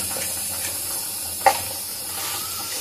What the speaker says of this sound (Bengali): শুকনো লঙ্কা দেবো, একটা তেজপাতা দেবো, দিয়ে একটু জিরে ফোড়ন দেবো